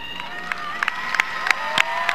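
Audience at a graduation ceremony applauding and cheering, a steady crowd roar with scattered sharp claps and shouts rising through it.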